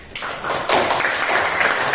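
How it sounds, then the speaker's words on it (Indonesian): Students in a classroom give applause for a classmate, a continuous close wash of many clapping hands that swells after a moment and holds steady to the end. "Tepuk tangan untuk Arfan."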